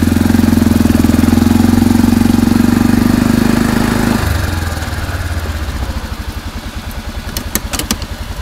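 An ATV engine running on a charcoal gasifier idles loudly with a steady drone, then the pitch drops and it settles into a lower, uneven chugging as it runs short of air, close by.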